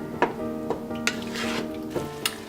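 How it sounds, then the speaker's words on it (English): Spoon stirring lemon juice into a simmering Moroccan date and chicken sauce in a pan, several scraping knocks over a steady bubbling sizzle, close, with no voices. "We'll mix it well, and we'll let all this simmer for another 10 minutes on low heat."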